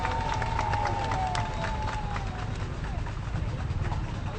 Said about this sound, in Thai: ปรบมือดัง ๆ ต้อนรับคุณดาชัยอุชุโกสงการ เบอร์สองครับพี่น้องครับ